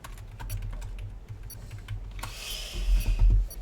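Rapid keystrokes on a computer keyboard during an online sim racing league session, clicking steadily and close over a low background hum, with a denser burst of key presses toward the end.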